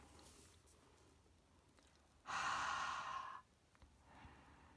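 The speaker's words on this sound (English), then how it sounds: "Okay, then we're going to just breathe on it." A single breath is blown onto a rubber stamp in a quiet craft room, making a soft airy whoosh of about one second that stands out against a faint background hiss.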